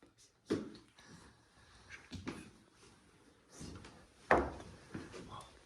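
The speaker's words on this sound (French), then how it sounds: "il y a un bruit de porte" A door in an old château makes a few faint knocks and thuds, heard from a distance amid quiet room noise, with one sharper bump near the end.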